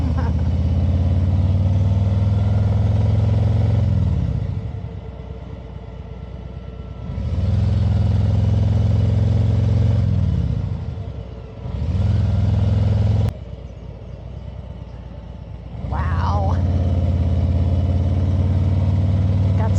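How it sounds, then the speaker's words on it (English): Several motorcycles roar past one after another, engines swelling loud and then fading, with a steady low rumble in between as each bike rides down the road. "all these darn bikers coming down the road, disturbing our peace."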